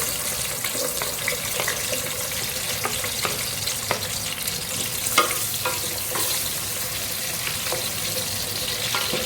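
Onions sauté in oil in a pan while cooking a potato and spinach dish, a faint, steady sizzle broken by occasional light clicks of stirring.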